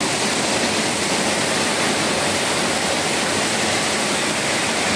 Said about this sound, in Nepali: बाहिर पानी परिरहेको छ पनि रेकर्ड गरेर हजुरलाई देखाउँछु